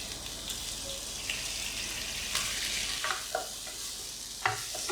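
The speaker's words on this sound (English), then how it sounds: "Stir fry a little bit" Seafood stir-fried with chili and garlic in a wok for Thai drunken noodles, a continuous close sizzle with scraping stirs and a few clanks of the utensil against the pan.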